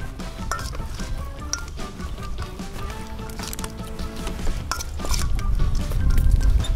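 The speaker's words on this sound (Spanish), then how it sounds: "Un poquito de agua abajo." Water poured into a grill pan set beneath a short rib for pibil on a grill, a close liquid splash and sizzle with clinks of the pan, growing louder near the end.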